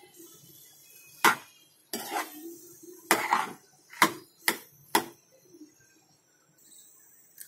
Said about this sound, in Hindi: अब ये आलू है, इसको सब्जी में अच्छे से मिक्स कर लेना है हमको